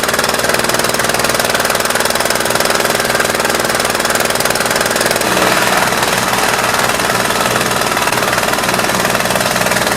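A Multiquip Mikasa MVH-206GH hydraulic-controlled plate tamper runs steadily, its engine drone and hammering vibration continuous and close throughout, shifting slightly in tone about halfway, with no talk over it.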